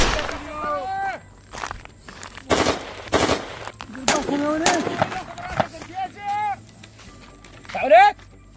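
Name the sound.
gunfire shooting in a video game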